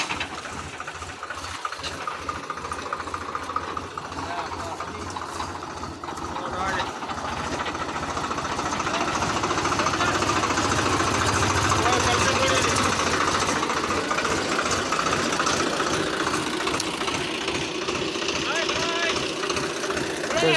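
A tractor engine hauls a trolley loaded with about 350 maund of maize up a slope, a steady loud diesel rumble with knocking that builds and holds, with voices talking in the background.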